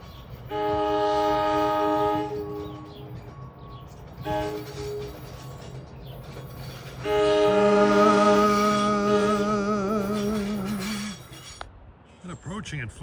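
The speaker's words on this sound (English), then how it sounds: "The Silverliner 4 horns provide a relaxing sound reminiscent of my 4th grade teacher whacking me in the back of the head with her yardstick." Silverliner 4 train horns blasting a loud multi-tone chord in two long sustained soundings, over the rumble of a passing train with clattering rail noise in between.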